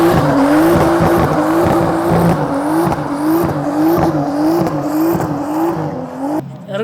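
Tires squealing loudly on a Nissan Skyline GT-R34 during wheel spin, a sustained wavering screech over engine roar that holds for several seconds before cutting off near the end.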